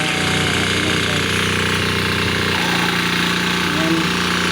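A hand tractor plowing a field runs with a loud, continuous chugging engine drone and rattling vibration, steady throughout with a shift in tone midway.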